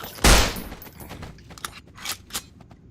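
Gunfire in the video game Estranged Act 1: one loud burst followed by scattered fainter shots and impacts, alone with no talk.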